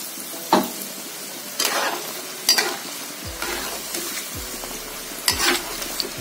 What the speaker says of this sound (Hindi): इस फ्रेंच फ्राई को लगातार चलाते हुए 10 मिनट हाई फ्लेम पर फ्राई करेंगे।